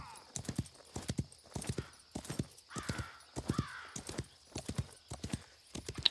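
Horse hooves clip-clop in a steady rhythmic gait in the Wild West Online video game, close and clear, with a few faint tonal calls in the background.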